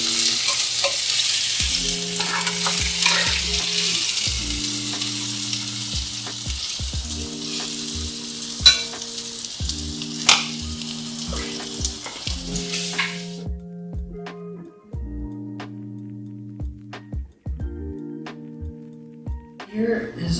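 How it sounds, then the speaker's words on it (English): Cactus pan frying in olive oil, a steady bright sizzle that cuts off about two thirds through, followed by quiet scrapes and taps of stirring, all under music. "And you are pan frying these."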